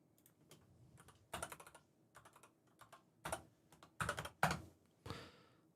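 Typing on a computer keyboard with an English layout, in irregular bursts of quick key clicks separated by short pauses, close and fairly quiet.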